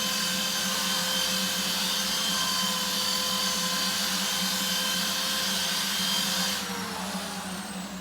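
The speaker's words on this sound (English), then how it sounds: "Then I use a drill with a fine wheel on it to finish it up." Continuous high-pitched whine of a drill spinning a fine wheel against antler ends, steady and loud throughout, dropping in pitch near the end as the motor slows.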